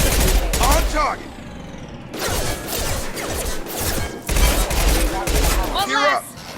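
Rapid bursts of gunfire from the video game Mass Effect 2 crackle across a combat scene, with fusillades interrupted by short pauses and mixed with loud battle noise, while voices call out over the shooting.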